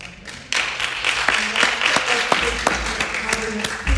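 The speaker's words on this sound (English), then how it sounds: "Audience, please refrain from the applause." Audience applause breaks out at a school board meeting, a steady wash of clapping with sharp individual claps standing out, mixed with murmuring voices in a large room.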